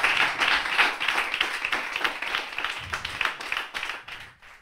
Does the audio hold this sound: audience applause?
yes